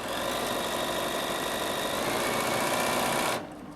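A Bernina 7 Series sewing machine runs at a fast, steady whirring buzz for a few seconds, then stops abruptly.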